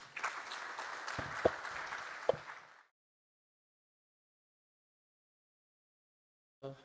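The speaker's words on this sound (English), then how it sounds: "A big round of applause for them." Applause from a conference audience for the panelists of an aerospace and defence manufacturing panel discussion, a dense moderate patter lasting under three seconds before cutting to silence, with a brief noise near the end.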